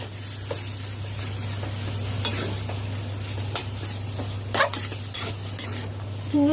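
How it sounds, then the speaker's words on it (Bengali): Jackfruit curry with butter stirred and frying in a wok: a steady close sizzle runs throughout, with repeated scraping stirs of the spatula against the metal and a few sharper clinks. No one speaks. "সামান্য পরিমাণ বাটার দিয়ে দেব ভালো করে মিশিয়ে নেব"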